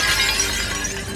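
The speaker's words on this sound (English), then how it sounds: "the glass broke away" A pane of glass shatters under tornado-force wind, producing a dense, loud, continuous crash of breaking fragments that fills the whole moment, close and with no voices.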